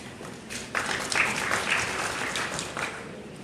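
Audience applause at the inauguration ceremony for the Banda Aceh mayor and deputy mayor, a steady wash of many hands clapping that swells after a moment and holds evenly to the end.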